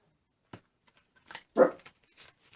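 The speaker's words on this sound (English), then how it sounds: "And of course, my dog is going to bark." A pet dog indoors gives a few short, sharp barks at moderate distance, one louder bark standing out among softer yips in an otherwise quiet room.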